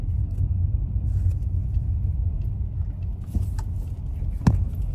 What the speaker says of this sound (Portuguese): Devagar que tem um carro ali.